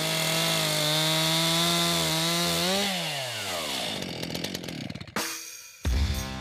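A chainsaw run by a trained carpenter in the woods whines loudly and steadily, its pitch dropping and bogging as it bites into wood, then cutting off abruptly before a brief final revving burst.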